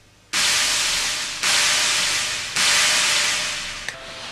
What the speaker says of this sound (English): Here is a noise sample on the Roland D50.